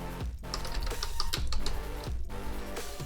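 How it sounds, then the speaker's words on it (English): Computer keyboard keys tapped in a steady run of close, light clicks while a docker ps command is typed, with short pauses between groups of keystrokes and no voice. "So if I type in docker ps now"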